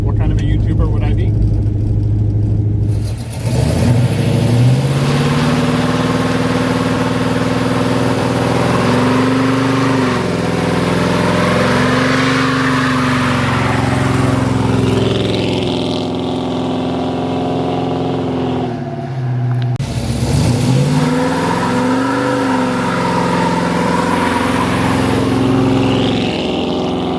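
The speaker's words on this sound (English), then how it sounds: "giving you guys some sweet, smoky two-wheel burnouts" A car does smoky two-wheel burnouts, its engine revving loud and steady for long stretches, with the pitch dipping and surging again around the twentieth second; a voice talks intermittently over the roar.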